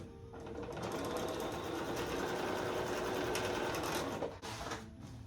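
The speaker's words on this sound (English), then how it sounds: "we're going to sew with a 1/4 inch seam. And I'm just going to sew all three of these pieces" A sewing machine runs steadily as it stitches fabric pieces together with a quarter-inch seam, a close, continuous mechanical whir lasting about four seconds before it slows and stops with a few soft clicks.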